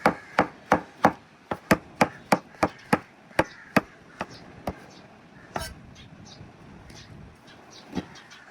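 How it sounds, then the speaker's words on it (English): A knife slices through Wagyu burger ingredients on a cutting board, a quick run of about a dozen sharp, evenly paced chops that then thin to a few scattered knocks and light handling noises. "This one I will we need to slice very carefully"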